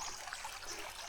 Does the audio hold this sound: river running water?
yes